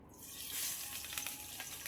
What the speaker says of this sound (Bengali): তেলটা গরম হয়ে গেলে আমি এই ডিমগুলোকে দিয়ে দিচ্ছি।